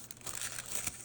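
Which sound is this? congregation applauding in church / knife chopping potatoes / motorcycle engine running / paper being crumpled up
paper being crumpled up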